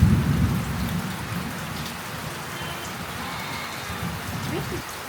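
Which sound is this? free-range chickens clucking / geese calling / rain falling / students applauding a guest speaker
rain falling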